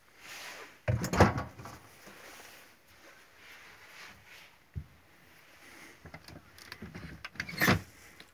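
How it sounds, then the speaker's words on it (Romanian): Drawers in a shepherd's trailer at a Maramureș sheepfold being pulled open and pushed shut, a few short wooden scrapes and knocks spread across a quiet room. "Alte sertare."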